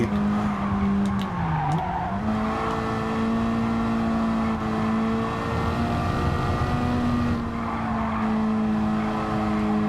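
Honda Civic front-wheel-drive race car with about 300 horsepower in Gran Turismo 7, its engine droning steadily and loud throughout, pitch dipping briefly early on, with a hint of tire squeal and no talking.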